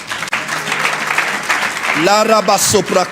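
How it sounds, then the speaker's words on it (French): A church congregation applauds loudly at a prophetic service, with sustained clapping and a voice rising over it partway through. "On acclame très fort alors."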